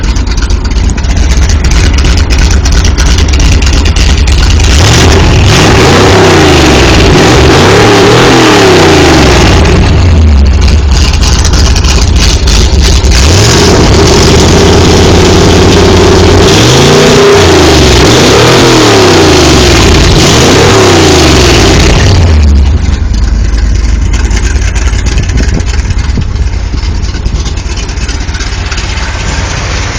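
A 1970 Chevy CST truck's engine, recorded from under the truck, runs loud and close for the whole stretch, rumbling at idle and revving up twice in long sweeping surges.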